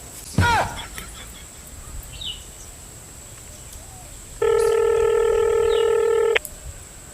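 Telephone keypad tones on a handset: a brief burst near the start, then one long steady dialing tone held for about two seconds, with a few faint sounds between.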